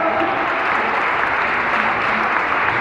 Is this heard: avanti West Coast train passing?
no